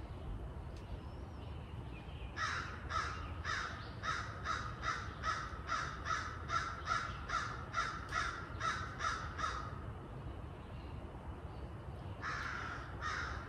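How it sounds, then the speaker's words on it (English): A crow caws in a long steady series of harsh calls from outdoors during a windy turkey hunt, followed after a short pause by one more brief burst, with steady wind noise underneath. "Every time this crow crows, this bird gobbles"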